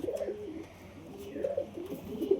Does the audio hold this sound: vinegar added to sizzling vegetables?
no